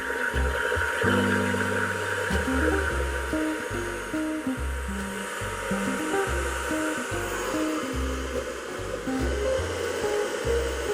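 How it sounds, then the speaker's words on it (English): A blow dryer runs on high heat and low speed with a steady whooshing blow, close and continuous for several seconds, its pitch wavering slightly as it is moved around styled hair. "with my blow dryer on high heat, low speed, I'm just going to go ahead and set that into place"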